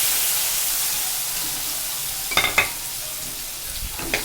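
Spice paste loosened with water sizzles steadily in a hot pan for a fish curry with mustard, coriander powder, dried chili and salt, with a few sharper crackling bursts near the middle and end and no talking.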